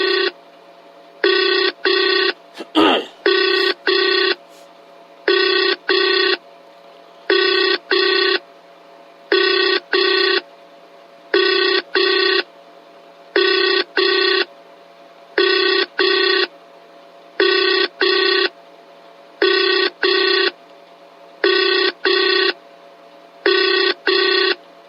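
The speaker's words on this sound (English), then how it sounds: "Well, nobody's answering the phone." An outgoing telephone call rings unanswered, with loud, regular paired ring bursts repeating about every two seconds and silence between them. One brief click or knock falls near the start.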